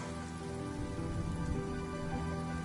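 Rain pours down in Honkai: Star Rail as an even, unbroken hiss of drops striking surfaces, with no voices over it.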